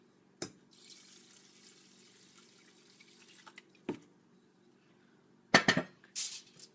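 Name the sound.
pouring water onto rice in a bowl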